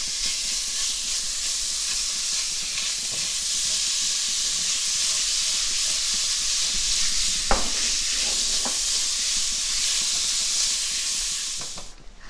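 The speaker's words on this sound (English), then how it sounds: "we're going to take 5 slices of thick bacon. Let's not cook it on high. We're gonna cook it on low." Thick bacon pieces fry in a pan on low heat, giving a steady, close, even sizzle and hiss with one sharp clink partway through and the sound cutting off at the end.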